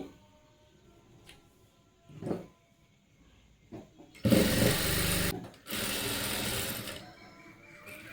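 A sewing machine stitches along the last edge of a sleeve in two loud, rapid runs of rattling, with quieter handling noises and faint sounds before them.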